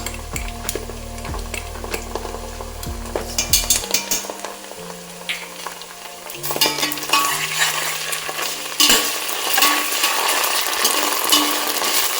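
Ginger garlic paste and onions sauté in a pan for mushroom biryani, a busy sizzle carrying clinks and scrapes of a metal spoon on the pan, along with a steady low hum and some brief tonal sounds in the first half.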